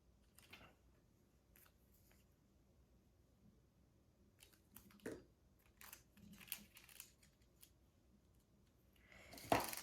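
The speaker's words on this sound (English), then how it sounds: "But I just cut the wax paper to fit." Scissors cutting wax paper to fit the windows of a craft shadow box, a scattering of quiet snips and crinkles at close range, with a louder crinkle at the end.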